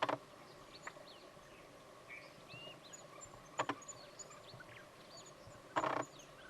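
Faint, scattered high whistles and short chirps from mongooses, coming from several directions, with a few brief louder rustling thumps in between.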